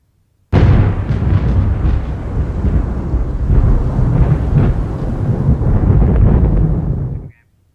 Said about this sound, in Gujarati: અંબાજીમાં ધોધમાર વરસાદ ખાબક્યો.